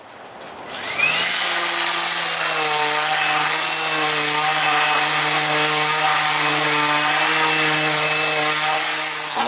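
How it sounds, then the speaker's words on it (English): A power sander works along the edge of an RV front window rock guard, a loud steady motor whine that starts abruptly and holds continuously before easing off at the end. "So let's go ahead and get that sanded down."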